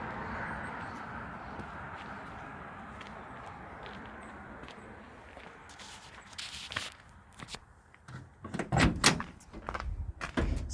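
The driver's door of a 1968 Dodge D200 Sweptline pickup is opened; after a stretch of low rumbling background noise come several sharp metallic clunks and rattles near the end, with no speech.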